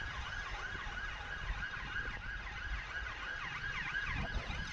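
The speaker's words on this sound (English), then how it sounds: "Police car siren in the distance." A police car siren wails, cycling steadily up and down at a distance, continuous and moderately faint against a low background rumble.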